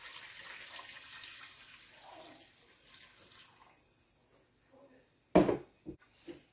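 Water from a measuring cup running into a pot of rinsed lentils and quinoa for about four seconds, a steady hiss that fades out, followed by a few sharp clinks and knocks of cookware.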